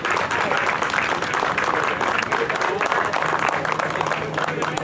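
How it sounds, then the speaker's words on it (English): Crowd clapping at a junior high school bass fishing awards ceremony at Nickajack Lake, Tennessee, a brief burst of applause mixed with voices and background chatter. "they get a big hand from the entire crowd"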